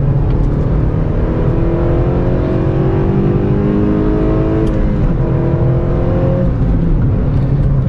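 A 9th gen Honda Civic Si on new tires accelerates hard, its engine note climbing steadily through the gears with a loud, continuous drone and a brief dip at a shift midway.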